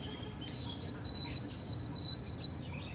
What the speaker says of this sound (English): There's a really singy birds out this morning.